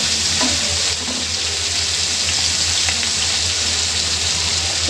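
Onions, tomatoes and green chillies fry in a pan, giving a steady, close sizzle that hisses without a break, with soft stirring scrapes and no talk.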